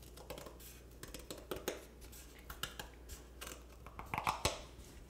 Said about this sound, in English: So I just cut a circle.